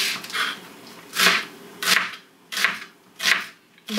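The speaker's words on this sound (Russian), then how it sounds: "Затем нарезаем лук полукольцами." A knife slicing onion into half rings on a cutting board, five crisp chopping strokes at a steady, unhurried rhythm, close and clear with quiet pauses between cuts.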